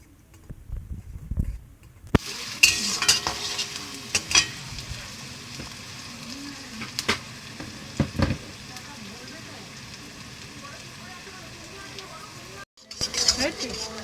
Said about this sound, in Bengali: তেল গরম হয়ে গেছে, এবার আমি পেঁয়াজটা দিয়ে দেব।